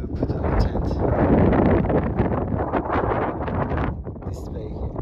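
Strong wind gusting across the Salar de Uyuni salt flat in Bolivia, a steady loud roar buffeting the microphone throughout, with faint voices mixed in.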